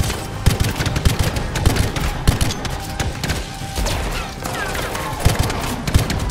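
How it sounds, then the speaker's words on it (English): Rapid bursts of in-game gunfire from Anthem, loud and close, firing in quick clusters across a dense battle mix with repeated sharp impacts throughout. "3-round burst time it is then"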